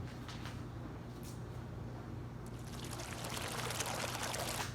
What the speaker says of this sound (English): You gonna pour the water in there?